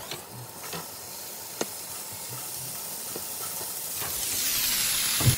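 A steady sizzling hiss of pork frying in a pan, growing louder toward the end, with a few faint clicks and no talking.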